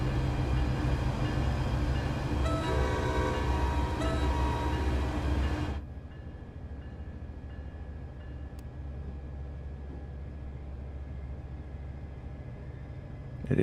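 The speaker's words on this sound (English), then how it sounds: "I like the sound of this train." A passenger train in Train Sim World 6 runs with a steady low rumble and mechanical drone that drops to a quieter, even hum partway through, continuing alone with no talk.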